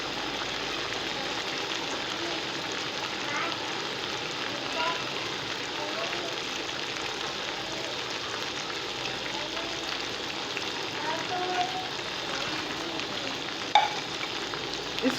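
Boiled arbi (taro) tikkis shallow frying in oil in a pan give a steady, dense sizzle and crackle that runs throughout at an even level, with a voice talking over it.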